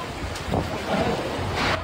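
Typhoon Tino floodwater surges along UN Avenue in Barangay Umapad, Mandaue City, in a brief, rough rush of churning water mixed with wind buffeting the microphone.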